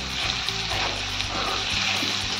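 Boiled, cut potatoes frying with green chili paste in an oiled pan, a loud, steady close sizzle with faint stirring scrapes and no talk.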